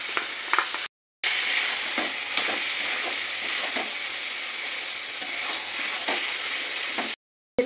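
Spice paste of pistachio, green cardamom, cashew, black pepper and green chilli being fried and stirred in oil for a curry: close, steady sizzling with repeated scraping strokes of the spoon, broken by two short silent gaps.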